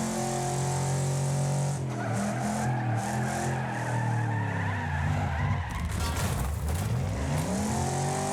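Race cars in the Wreckfest video game, with loud tires squealing and skidding under late braking over continuous engine roar, pitch sweeping as the cars slide through the corner.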